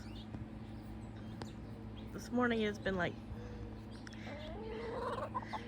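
Backyard chickens call loudly in a garden, with two clear bursts of harmonic squawking in the middle and fainter clucking near the end, while someone talks over them.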